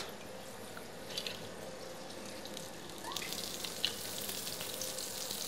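Kräuterseitlinge (king oyster mushrooms) sizzle and crackle in a hot pan on a cooking show, a steady close frying hiss that grows a bit louder partway through.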